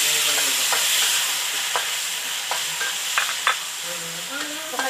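Food sizzles and fries in a pan with occasional scraping stirs, a steady hiss broken by sharp clicks of a utensil against the pan, fairly close.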